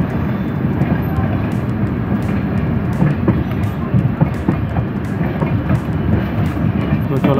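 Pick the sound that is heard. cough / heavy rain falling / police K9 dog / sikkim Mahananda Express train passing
sikkim Mahananda Express train passing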